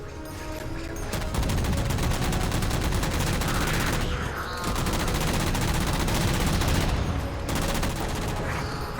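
Rapid, dense gunfire from Halo 4 as jammers are shot down: continuous loud bursts of automatic fire with brief gaps, filling the whole stretch with no talking.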